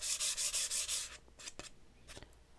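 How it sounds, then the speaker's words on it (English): Close, rhythmic strokes of a sanding disc rasp across a wooden edge about six times, then stop, followed by a few light knocks and handling taps. "I'm going to give this a light sanding at the edge just to remove any little rough"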